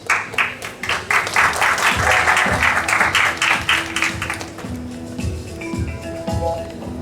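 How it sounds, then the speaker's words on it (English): An audience at a school event claps for a participant: a loud, dense burst of applause that peaks and then thins out over a few seconds, leaving a quieter room with some low voices. "Let's give a big round of applause for participant S"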